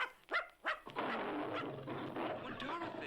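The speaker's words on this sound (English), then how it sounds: "little Toto, forgetting how tiny he was, ran toward the big lion, barking" Little dog Toto barks at a big lion as a vintage record sound effect, with a few sharp yaps at the start, then a burst of crackly noise and narration on the old record.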